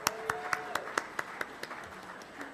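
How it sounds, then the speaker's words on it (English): A meeting audience clapping, a short sparse run of individual claps that starts fairly crisp and thins out quickly, with a faint voice underneath. "Let's give a round of applause to our calendar"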